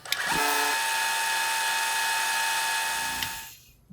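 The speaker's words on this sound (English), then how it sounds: "turn on your vacuum pump." A vacuum pump from a Sterlitech recovery kit with a skid system starts with a click, runs as a loud, steady high whine for about three seconds, then shuts off and spins down.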